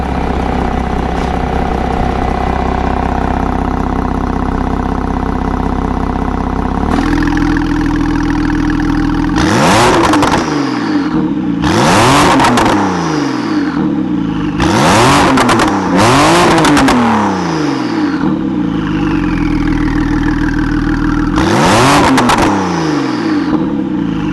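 A Porsche 911 twin-turbo engine, cold-started and warmed up, idles steadily, then fires off a series of loud, sharp revs in Sport Plus mode, several quick blips rising and falling with a final burst near the end.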